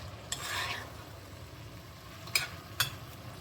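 Sesame teriyaki shrimp stir-frying in a pan, a soft, steady sizzle near the mic broken by a few sharp metallic clinks of a utensil against the pan, with no one speaking.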